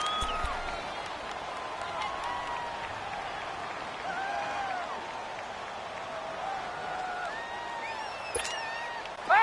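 Stadium crowd noise in a football video game, a steady, distant wash of cheering and clapping with occasional whistles, while a commentator talks over it.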